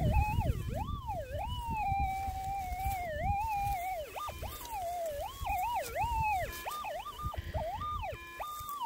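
A Garrett Axiom pulse induction metal detector sweeping over ground emits warbling electronic tones that rise and fall in pitch, shifting quickly and continuously at close range and fairly loud, with no talking.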